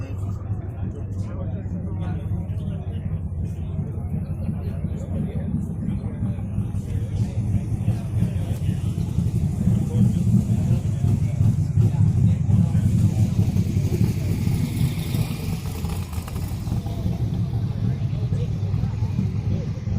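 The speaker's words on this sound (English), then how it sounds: "You can just hear all the nice motors passing by." Passing car motors with steady low engine rumble building to a louder pass near the middle, continuous and fairly close, with talk over it.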